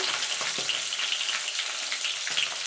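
Potato pieces for a vegetarian aloor dum frying in oil until reddened, a dense continuous hiss with soft bubbling crackle, close and fairly loud, with no voices.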